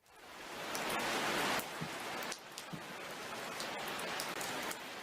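Heavy rain in a video game pours steadily, a dense hiss of drops pounding a surface with faint ticks and splashes, continuous and close with no talk.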